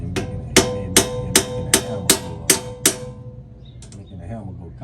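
Seven sharp, evenly spaced hammer blows ring out against an axle bearing on a Ford Mustang rear axle, each metallic strike close and loud, followed by a few softer knocks and faint voices.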